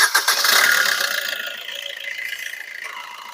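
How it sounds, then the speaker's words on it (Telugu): A 2018 Maruti S-Cross SHVS diesel engine cranks and catches, then settles into a steady rattly idle, close and fairly loud with no talking over it. "जरा गाड़ी स्टार्ट करो ना एक बार गाड़ी स्टार्ट करो"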